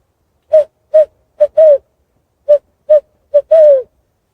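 A person's voice imitating an owl, giving eight short hollow hoots in two similar spaced groups of four, the last of each group drawn out longer, loud and close with silence between.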